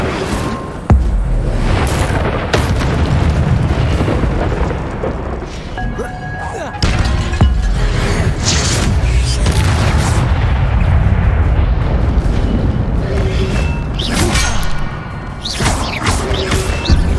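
An Incendio fire spell blasts in Hogwarts Legacy on PC, a loud booming burst followed by continuous rumbling, crackling combat impacts and further explosive hits throughout.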